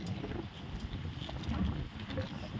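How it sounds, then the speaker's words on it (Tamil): Strong cold wind blows across Velliangiri mountain, a steady low buffeting roar of wind against the microphone that swells and eases for the whole stretch, with no clear voices. "ஆனால் ஒரு பயங்கர குளிர் காற்று அடிக்கு."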